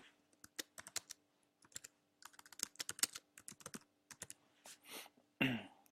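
Rapid typing on a computer keyboard, close and crisp, with irregular bursts of key clicks separated by brief pauses and a louder thump near the end.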